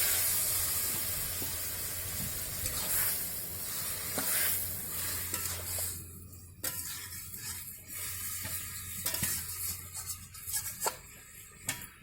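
Water poured into a hot frying pan with ridge gourd, potatoes and morala fish bursts into loud hissing sizzle, which fades to softer frying under repeated scraping stirs of a spatula.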